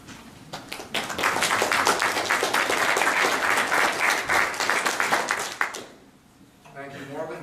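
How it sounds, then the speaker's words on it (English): An audience at a lecture gives warm, sustained applause, dense clapping building quickly and holding steady for several seconds before stopping abruptly, followed by a speaker's voice. "thank you, ladies and gentlemen, for your warm applause"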